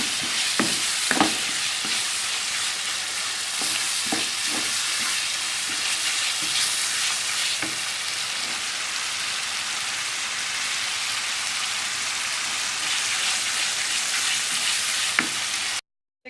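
Mutton keema frying in desi ghee in a karahi, a steady loud sizzle throughout with occasional clinks and scrapes of a stirring spoon against the pan.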